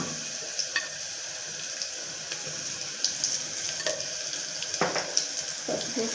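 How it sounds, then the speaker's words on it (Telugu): Onions fry in a pan with turmeric and salt for a chicken dish, making a continuous close sizzle broken by scattered utensil scrapes and light clinks, with no talking. "చూడండి, ఆనియన్స్ వేగాయి కదా, బ్రౌన్ వచ్చాయి లైట్గా"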